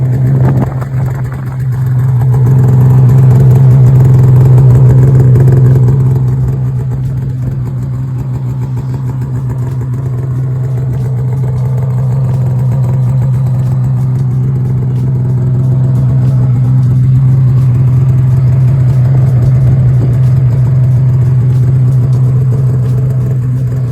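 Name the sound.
snowmobile engine revving and idling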